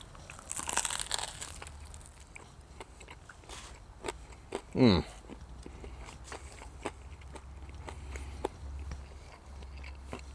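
Crispy skin of kettle-fried chicken seasoned with garlic salt and black pepper, bitten with one clear close crunch near the middle, surrounded by faint scattered clicks and low background noise.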